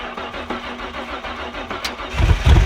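A junkyard engine for a Ford XE Falcon cranks and catches, sputtering with rough pops and crackles as it fires up at the end.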